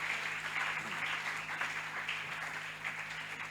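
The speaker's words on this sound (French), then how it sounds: "On applaudit pour les Seigneurs." Church congregation clapping during a Sunday service, a steady wash of applause at moderate volume with a low hum beneath and a faint murmur of voices.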